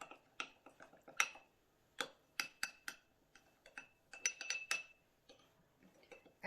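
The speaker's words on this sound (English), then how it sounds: "Give it all a good mix" Utensils clink and tap against a bowl while a vinegar mixture for bak kwa is stirred, irregular sharp chinks in quick bursts, close and fairly soft, with no talking.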